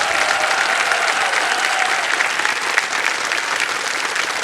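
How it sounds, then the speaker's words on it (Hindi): Studio audience applause on the KBC Season 16 game show after a contestant quits with 25 lakh rupees, loud, dense, continuous clapping filling the hall, with a faint music tone underneath. "तालियां बज जाएं इनके लिए।"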